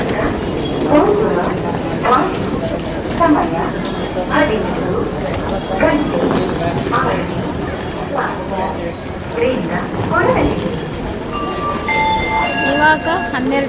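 A passenger train arriving in Bangalore rumbles with steady rhythmic clatter of wheels over rail joints, loud and close, with voices and ambient noise mixed in.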